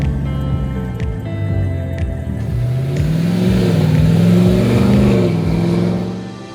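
A restored Land Rover station wagon with a 6.2 litre GM V8 and 8-speed automatic transmission drones steadily up close, its engine pitch rising and falling as it revs, with no talking.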